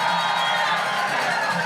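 A crowd at an outdoor No Kings rally in Colburn Park, Lebanon, New Hampshire, cheers and whoops in a dense, sustained roar of voices at moderate distance, loud and continuous without a break.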